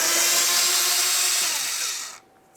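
A power drill runs steadily, backing Phillips head screws out of a mud flap on a 2005-2010 Dodge Dakota fender liner, a loud continuous whir that winds down and stops near the end.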